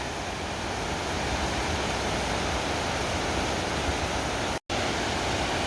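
Water released from an open hydroelectric dam rushes down a river in Shilong, Meghalaya, as a loud, dense, continuous roar, broken only by a momentary cut near the end.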